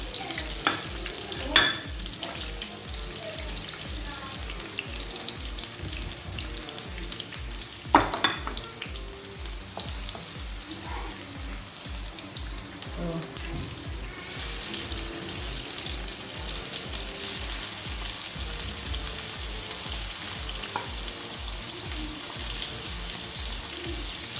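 Onions frying in oil for a saithe fish tomato sauce, a long steady sizzle with occasional louder scrapes of stirring and faint kitchen knocks and water sounds, no talking.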